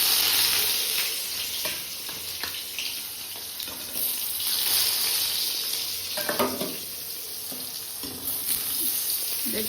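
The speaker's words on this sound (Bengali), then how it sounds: "বেগুন কেটে নুন হলুদ মাখিয়ে রেখেছি, এবার এক এক করে ভেজে নেব" Eggplant slices coated in salt and turmeric frying in a pan, a continuous crackling sizzle with occasional clinks and knocks from utensils, no talk.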